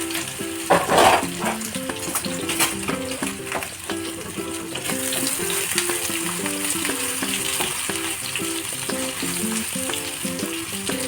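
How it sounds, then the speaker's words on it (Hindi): Eggplant pieces sizzle in hot oil in a frying pan for aloo baingan sabzi: a steady, close frying crackle after a few early clattering knocks as they go in. No talking. "अब इस गरम ऑयल में हमें बैगन को डाल देना है।"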